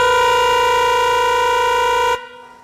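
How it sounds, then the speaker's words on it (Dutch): A loud, steady old parade horn blast holds one rich, brassy tone for about two seconds, then cuts off abruptly into a faint echo. "Uit het Museum van Zuilen komt nog de toeter die boven al het paradegeweld te horen zal zijn."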